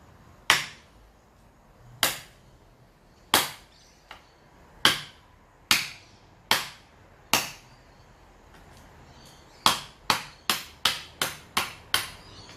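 A kukri knife chops hard into material to dull its edge: sharp, loud single strikes spaced about a second apart, then a faster run of blows near the end, with no talk.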